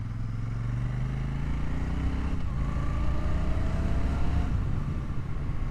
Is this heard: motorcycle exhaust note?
yes